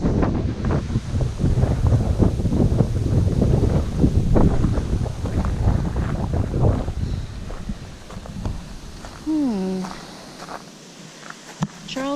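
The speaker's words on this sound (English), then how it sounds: "I like the sound of the rocks under my feet" Footsteps crunching on rocks during an uphill climb, paired with strong gusting wind buffeting the microphone; steps are close and rhythmic at first, then wind dominates, with a voice briefly speaking near the end.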